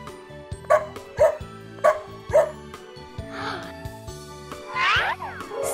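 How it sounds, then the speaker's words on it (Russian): A small dog barks four times in an even rhythm over a playful musical backing, followed by softer whimpering yips, in a children's cartoon game scene. "Собачка, вот ты где!"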